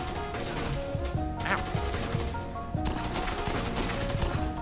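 Pistol shots ring out in Dead Rising 2, a rapid run of sharp cracks and impacts over busy game noise, with no one talking.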